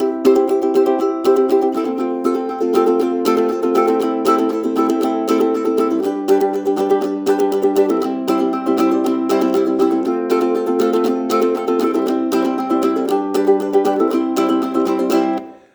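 Ukulele strumming steadily in an upbeat rhythm, bright chords repeating alone throughout, ending abruptly.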